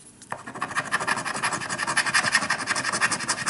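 Coin or fingernail scraping the foil coating off a One Piece Chopper-themed scratch lottery ticket, a continuous close, dense rasping scratch running steadily throughout with no voices.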